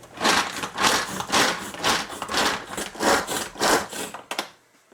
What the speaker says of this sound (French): On va tester cette petite hachoir, voir si elle va hacher.